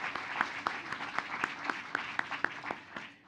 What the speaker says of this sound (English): could I ask our audience to give the Assistant Secretary a round of applause as well?